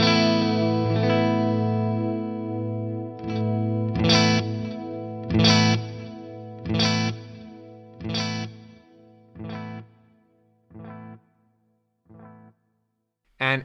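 An Eventide Rose delay pedal set to a long delay with high mix and feedback. A distorted guitar chord is followed by repeated echoes spaced evenly apart, each fainter than the last, before a fresh strum at the end.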